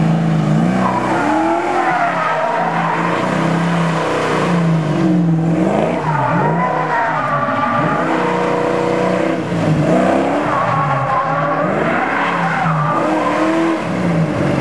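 A 1984 Mustang GT does burnout donuts on a street, its engine revving hard in rising and falling waves while the tires squeal and screech continuously, loud and close, with no talking.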